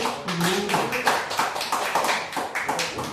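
Church congregation at a Portuguese-language praise and worship service clapping their hands, rhythmic, fairly close claps mixed with voices and singing.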